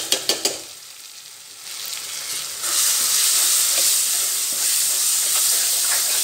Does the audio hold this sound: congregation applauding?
no